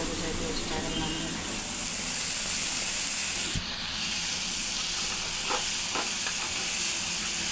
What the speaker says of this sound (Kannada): ಬದನೆಕಾಯಿ ಬೇಗನೆ ಫ್ರೈ ಆಗ್ತವೆ.